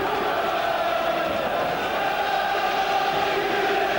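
A sellout football crowd at Queen's Park Rangers, hosting Manchester United in the 1992/93 Premier League, gives off a steady, dense roar with no breaks across the whole stretch.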